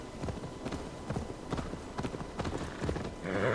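Horse hooves clip-clop at a steady walking rhythm in Assassin's Creed Valhalla, close and moderately loud, with a brief burst of other noise near the end.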